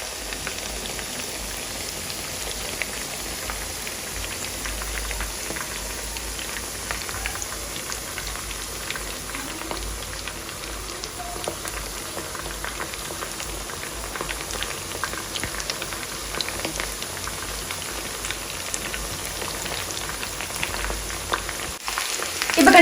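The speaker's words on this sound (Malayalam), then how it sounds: "ഇപ്പൊ ഞാൻ ഒരു പാതി ചിക്കൻ ഇട്ട് കൊടുത്തിട്ടുണ്ട്. ഇത് നന്നായിട്ടൊന്ന് ഫ്രൈ ചെയ്തിട്ട് എടുക്കാം." Chicken 65 pieces deep fry in hot oil, a dense, even crackling and bubbling that holds steady and close throughout with no talking.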